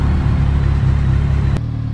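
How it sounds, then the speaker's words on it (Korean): A deep, steady engine rumble of a motorcycle exhaust on a quiet road, heard from a Honda CG125 rider, loud and close, droning continuously before a brief click and a slightly quieter tail. "내 뒤에 배기음이 죽여주는 오토바이가 있어요."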